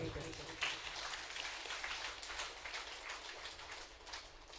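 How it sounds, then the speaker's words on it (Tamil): A church congregation clapping their hands together in steady, dense applause that carries on through the whole stretch, fairly close and at an even level with no talk over it. "கைதட்டு."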